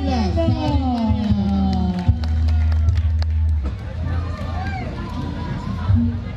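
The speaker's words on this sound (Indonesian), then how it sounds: "Tepuk tangan untuk" Outdoor audience at an ebeg festival award ceremony in Banjarnegara's town square cheering and clapping for a winner, a loud crowd roar with whoops and music underneath, someone talking over it throughout.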